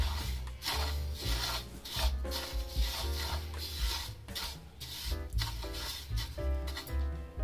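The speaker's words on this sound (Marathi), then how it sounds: "गॅसच्या मीडियम फ्लेम वरतीच हे तीळ भाजायचे" Sesame seeds are dry-roasted in a pan over a medium gas flame for jaggery sesame laddoos, giving a continuous rasping, rubbing scrape as they are stirred in rhythmic strokes, close and without talk.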